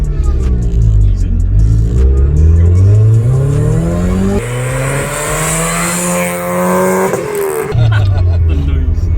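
Supercharged Mazda MX5 Miata engine pulling hard under acceleration, a loud steady rising drone climbing through the revs, easing briefly and climbing again, heard from inside the car.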